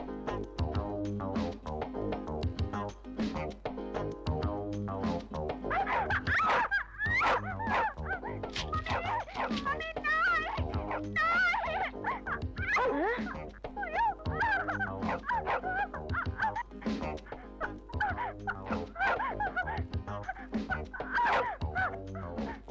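A dog barks and whimpers amid a busy film comedy scene, yips and whines recurring through dense music and effects that run loud for the whole stretch.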